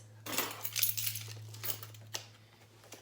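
Keys drop into a Coach Cassie crossbody bag, giving a short cluster of light metallic clinks and jingles close by, then a couple of fainter taps as they settle.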